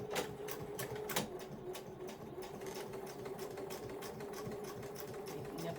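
A sewing machine making an odd, irregular noise while stitching: a steady mechanical whir with sharp periodic clacks, faint and close, with no talk.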